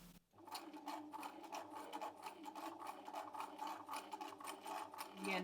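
A Bernina 1008 sewing machine stitches a buttonhole at slow speed, its needle producing a steady, even train of close mechanical ticks that continues throughout.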